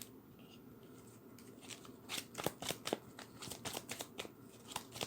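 Rapid riffling of playing cards being shuffled close by, a quick flurry of crisp flicks and snaps over a couple of seconds.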